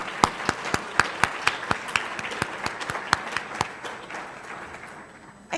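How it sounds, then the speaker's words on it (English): A small round of applause at a club meeting, a few people clapping in sharp, distinct claps close by for several seconds, tapering off toward the end. "Let's give a round of applause for that"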